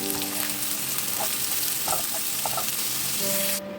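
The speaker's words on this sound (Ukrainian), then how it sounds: "Додаємо морковку. І також трішечки обсмажуємо." Carrots fry with onions in a pan for eggplant caviar, a steady, close hiss and crackle of sizzling oil with faint stirring taps, cutting off abruptly at the end.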